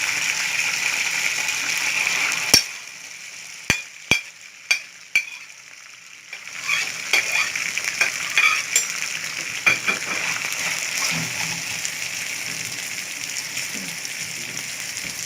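Onions fry in oil in a pan for Alexandrian sausage, a bright sizzling hiss that drops out while a spoon taps sharply against the rim several times, then resumes with stirring scrapes and crackle.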